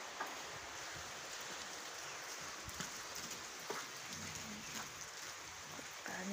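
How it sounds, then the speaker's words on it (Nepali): Steady rain falls outdoors as a dense, even hiss at low volume, with faint drips ticking through it and no voices. "पानी परेको छ"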